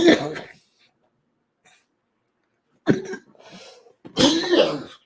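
A person coughs in short, sharp bursts, first one cough, then after a pause a couple more, with quiet gaps between.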